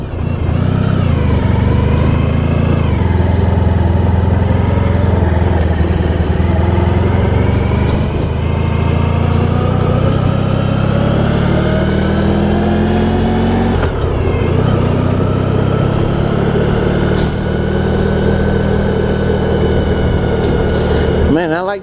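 A 1994 Honda ST1100 motorcycle engine drones steadily while riding, with rising and falling harmonic tones as revs shift and dense wind rumble underneath, loud and continuous throughout.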